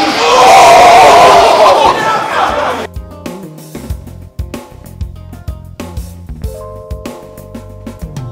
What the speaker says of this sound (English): The crowd's pretty good here.